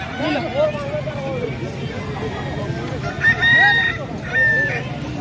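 A hen clucks and a rooster crows close by at a village poultry sale, bright rising calls repeated several times over a steady murmur of people talking.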